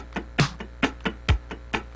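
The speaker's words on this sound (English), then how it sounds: "If I scratch 16ths with a drum machine like this," Muted funk guitar scratching even, straight sixteenth notes over a drum machine, with crisp percussive strums and heavier kick-like hits on the beat, close and clear.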